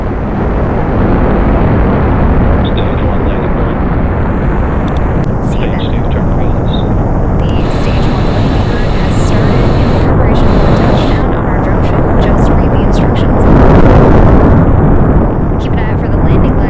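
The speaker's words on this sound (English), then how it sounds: "we have the landing burn, which should start in about 15 seconds from now" A Falcon 9 first stage fires its landing burn during a Starlink mission in Spaceflight Simulator 1.5.9. The steady, loud, broadband rocket roar fills the whole stretch and swells briefly near the end.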